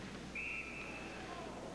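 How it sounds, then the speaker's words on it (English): Referee's whistle at a 1998 Duluth East vs Anoka high school ice hockey championship game, blown for a delayed offside: one steady, sustained whistle lasting about a second over crowd and rink noise. "And a delayed offside is finally whistled."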